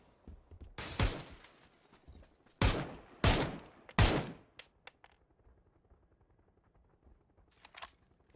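Gunfire in a console battle royale game: several loud, sharp shots in irregular bursts, then scattered fainter cracks and a distant pair near the end, with no talk over them.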